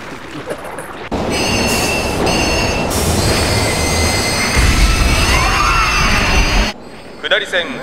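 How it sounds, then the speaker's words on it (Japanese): A video game train, in Persona 5, rolls into a station with loud rumbling and high, drawn-out wheel squeals, then the noise drops away abruptly near the end. "まもなく1番線に下り方面行き普通電車が参ります。"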